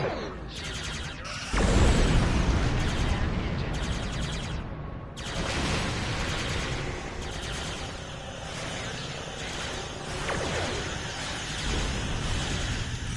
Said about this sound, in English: Full spread. Transphasic torpedoes.